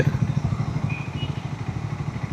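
A 3.2-litre five-cylinder engine in a Ford Endeavour SUV rumbles steadily with a low, throbbing pulse, heard from inside the moving car at moderate loudness, with no talk.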